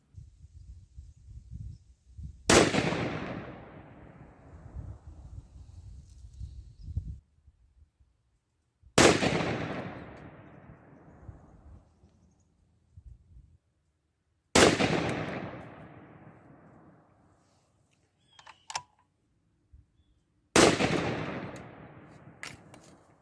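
Four evenly spaced shots from a 6.5 PRC Bergara B-14 HMR rifle firing 140gr SST loads on a cold outdoor range, each a sharp blast trailing off in a decaying echo, with quiet rustling and handling between shots.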